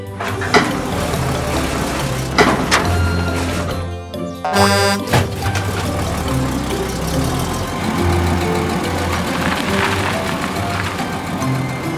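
A construction vehicle horn toots amid a steady rumbling engine at a wind turbine installation site, with busy mechanical clatter and music-like tones layered throughout, loud and close.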